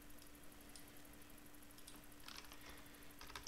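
Typing on a computer keyboard, heard as faint scattered clicks and small bursts of keystrokes over a quiet background hum.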